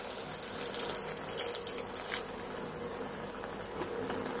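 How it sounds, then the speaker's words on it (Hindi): Half a glass of water goes into a cooking pot holding mixed tomatoes for a bottle gourd and chana dal curry, making a soft sizzle and bubbling hiss with faint splashy pulses. "अब डालेंगे इसमें आधा गिलास पानी।"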